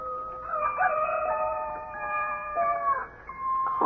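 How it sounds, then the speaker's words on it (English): A rooster crows as a radio drama sound effect, a loud, clear, drawn-out cock-a-doodle-doo with wavering tones that repeats and fades, heard alone with no voices. "beckoned by a rooster somewhere, doing his thing"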